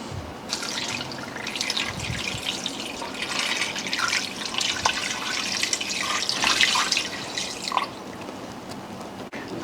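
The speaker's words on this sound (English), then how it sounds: "And add in some water." Water pours steadily into a pot of beef pares seasoned with whole peppercorns and salt, a continuous splashing fill with dripping detail throughout, close and moderately loud with no talk.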